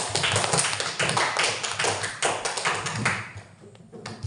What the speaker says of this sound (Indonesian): Tepuk tangan dong untuk Akbar dulu